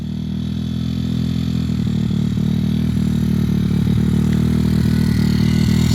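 A Stomp 160 pit bike engine running with the throttle held open, a loud, steady, close mechanical drone with a constant low hum and a faint rattling texture throughout.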